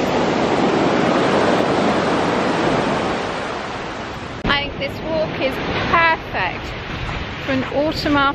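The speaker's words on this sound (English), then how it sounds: "the sound of the sea is just so relaxing" Loud, rushing surf on the Cornish shore between Penzance and Marazion roars continuously before easing, then a person begins talking while the waves keep washing in the background.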